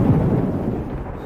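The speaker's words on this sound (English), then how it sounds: "As soon as it gets dark, thunder begins to reverberate around the airport." Deep thunder reverberates around an airport on a stormy night, heard as a heavy, sustained low rumble that slowly fades over a moment.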